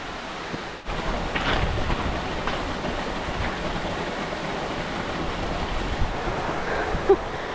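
Water rushes steadily down a waterfall in a rocky mountain gorge, a broad constant roar heard close by, with a faint thump near the start and no talking.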